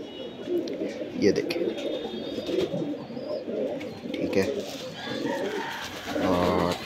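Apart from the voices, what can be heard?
Teddy cross pigeons cooing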